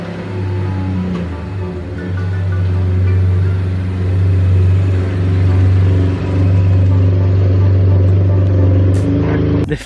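A Chevy Colorado pickup truck engine hums steadily at close range, a low droning rumble that swells slightly as it rolls along, with a brief clatter at the end.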